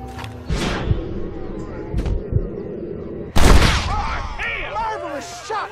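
Gunfire in the Western game Red Dead Redemption: a few sharp shots, the loudest a heavy blast midway, over a busy outdoor scene with music and a voice talking.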